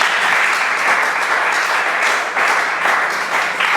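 A church congregation bursts into loud, sustained applause, a dense wash of many hands clapping at once that holds steady for several seconds with no voices over it.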